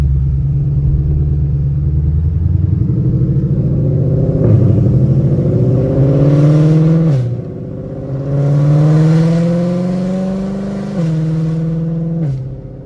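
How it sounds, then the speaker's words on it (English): Ford Shelby GT500 with a dual-clutch gearbox accelerating at light throttle, loud deep engine note climbing in pitch through several gear changes with brief dips between shifts, heard from inside the car. "It's absolutely insane how crazy this car sounds."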